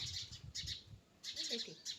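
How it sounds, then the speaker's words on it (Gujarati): Sparrows chirp in short bursts of close, bright tweets, pausing briefly before another cluster of chatter, with faint low background sounds. "ઓ ચકલી અહીંયા બોલે રહ્યું."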